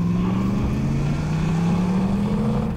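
A Ducati motorcycle passing on a country road, its steady engine drone rising slightly in pitch as it goes by, loud and continuous with no talking.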